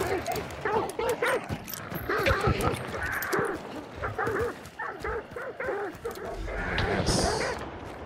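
A pack of dogs in the video game Hunt: Showdown: many overlapping barks, yips and whimpers in a dense, continuous chorus at close range, with people talking over it.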